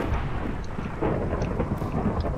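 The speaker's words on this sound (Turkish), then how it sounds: "Güneşli havada yağmur ne alaka ya?" Steady, dense rain hiss from a sunny-weather rain shower in the Minecraft video game (one block horror mod), a continuous rumbling wash of drops with no voices over it.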